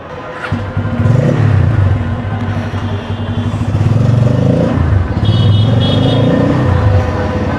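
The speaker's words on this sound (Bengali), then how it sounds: "আজকে রাইড করব Bajaj Pulsar an two fifty" A Bajaj Pulsar N250 motorcycle is being ridden, its engine holding a steady, loud drone and rumble with slight shifts in pitch throughout. No voices are heard over it.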